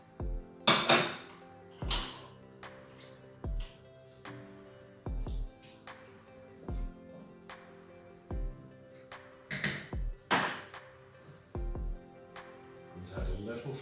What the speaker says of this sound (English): I am going to tip in a can of drained and washed